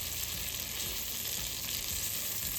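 Honey garlic chicken pieces frying in a pan, giving a continuous dense crackling sizzle heard up close with no other sounds.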